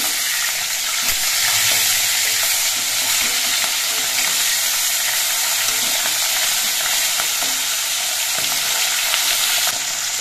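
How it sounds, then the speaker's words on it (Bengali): Pieces of khoira fish fry in hot oil in a pan, three at a time, giving a loud, continuous crackling sizzle with small spattering pops and no talking. "আমি 3 পিস করে মাছ দিয়ে ভাজছি।"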